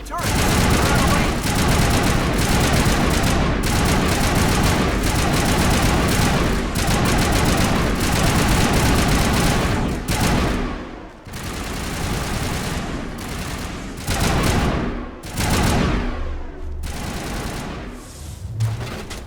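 Geth turret fire in the Mass Effect video game, with dense, loud sustained bursts of automatic gunfire that later break into separate volleys and booms, while game voices talk over the shooting.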